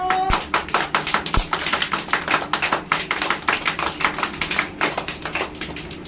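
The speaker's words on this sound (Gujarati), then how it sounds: "તાલી પાડો." A group of children in a classroom claps hands in a fast, steady run of sharp, close slaps that keeps going for several seconds.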